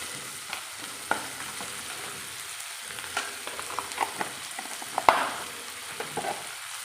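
Green chillies, curry leaves, ginger and garlic sauté in oil for a bitter gourd and mango pickle, giving a soft, quiet sizzle broken by scattered spoon clinks and scraping stir sounds.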